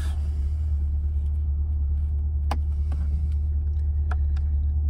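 Chevrolet C8 Corvette engine idling after start-up as the car is put in drive, a steady low rumble with a few faint clicks on top.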